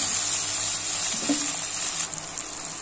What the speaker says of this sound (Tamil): தக்காளியும் சேர்த்து நல்லா வதக்கிக்கலாம்.